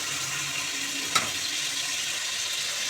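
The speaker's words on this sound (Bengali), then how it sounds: "চিকেনটা আগে তেলে ভালো করে ফ্রাই করে নিচ্ছি" Chicken pieces frying in oil, a steady close hiss of sizzling with one brief sharp tap partway through.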